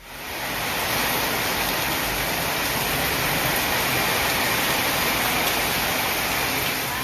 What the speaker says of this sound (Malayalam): പുറത്തേക്ക് ഇറങ്ങിയപ്പോൾ നല്ല മഴയായിരുന്നു.